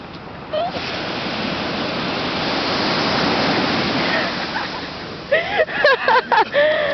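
Strong rush of cold Pacific surf and churning current at Valparaíso, a broad loud wash of water filling the clip, with voices breaking in over the noise toward the end.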